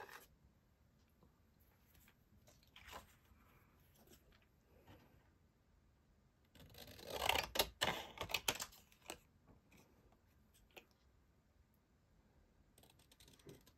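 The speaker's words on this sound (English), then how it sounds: "Let's grab those scissors." Crisp snips and paper rustling from scissors cutting card-making paper, close and quiet, with a denser burst of cutting near the middle.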